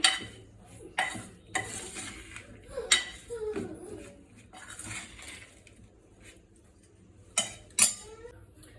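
A spoon stirs and clinks against a bowl while spices are mixed into a spinach and jowar chilla batter, giving repeated close scraping and tapping sounds under occasional speech.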